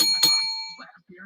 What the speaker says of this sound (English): Bing the bell.